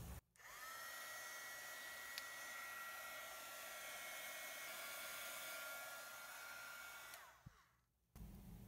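A heat gun blows over resin paint with ColourArte pigments, a steady, fairly loud whirring hiss that runs unbroken for about seven seconds, then cuts off near the end, with no talking.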